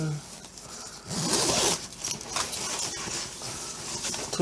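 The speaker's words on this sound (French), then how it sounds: "pour venir fermer votre fermeture" A zipper is slid closed along a fabric pouch with several short, scratchy zipping strokes up close, and a voice is heard briefly.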